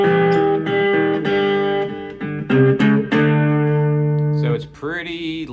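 A three-string cigar box guitar plays a blues shuffle in G at a softened volume, with rhythmic chugging notes and a brighter walk-up figure near the end, heard alone and fairly close.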